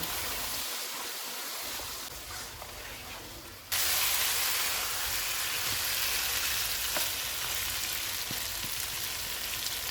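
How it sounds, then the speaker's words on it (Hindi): Mutton sizzling and frying in oil with cumin, coriander and red chilli powder, a steady loud crackling hiss that swells sharply a few seconds in and stays dense to the end. "अब हम इसको ऑयल अलग होने तक भून लेंगे"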